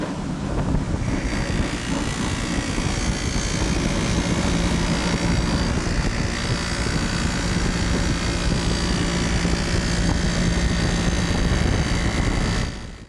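A buffing wheel polishes stainless steel classic car trim with a loud, steady whirring roar, continuous and fairly close, with no talk over it, then stopping abruptly at the end.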